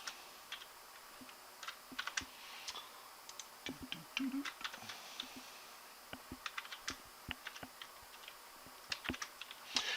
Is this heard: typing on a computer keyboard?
yes